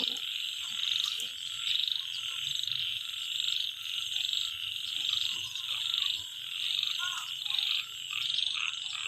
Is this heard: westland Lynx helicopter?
no